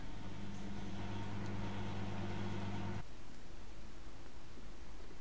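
A microwave oven runs at full power, cooking sliced potatoes in a Lekue silicone steam case; a steady, even hum lasts about three seconds and then cuts off, leaving only faint background noise.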